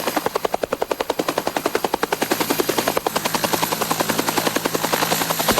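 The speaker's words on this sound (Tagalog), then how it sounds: "Napapadalas na naman ang paglipad ng mga military helicopter sa bayan ng butig Lanao del Sur." Military helicopters flying over Butig, Lanao del Sur, with a loud, steady rotor chop that beats rapidly throughout and no voices.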